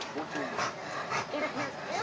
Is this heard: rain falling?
no